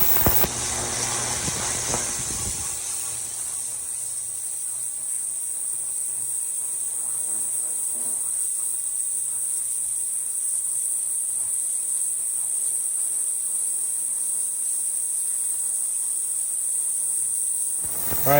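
VEVOR ultrasonic cleaner working on a carburetor gives off a steady high-pitched hiss that holds constant and alone for many seconds, with a brief clunk of it being switched on at the start.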